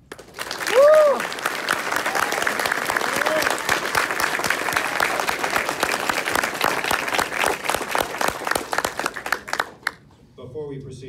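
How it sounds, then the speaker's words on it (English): A debate audience claps steadily for several seconds, a dense fairly close wash of many hands that tapers off near the end; a brief tonal sweep sounds near the start, and no one talks over it. "please hold your applause until the end"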